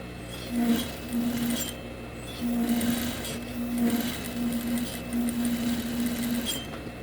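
Sewing machine with a narrow presser foot stitching the side seam of chita cotton fabric, a steady close whirring run in several bursts separated by brief pauses, with no voices.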